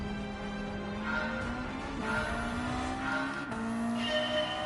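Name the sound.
racing car turbo in the video game Gran Turismo 7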